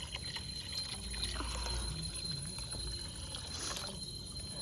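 Water pours steadily into a large pot while rasiya bhat is being cooked, a continuous rushing splash that holds fairly loud through most of the stretch over a low background hum.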